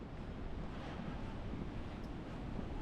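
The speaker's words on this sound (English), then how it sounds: "Nice little brook here." A small brook flows along a Peak District valley trail, its soft, continuous rush of water blending with faint wind, low and steady throughout.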